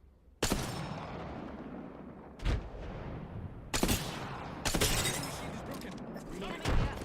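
A frag grenade blast and scattered gunfire in the battle royale shooter Apex Legends, with a sharp loud burst followed by several more heavy impacts and crackling shots spread across the clip over a constant game background din.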